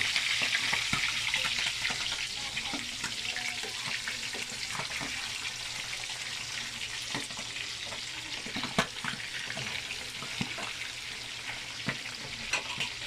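Food frying in hot oil with steady, dense sizzling and scattered sharp spatters and pops throughout, close and fairly loud, with no voices.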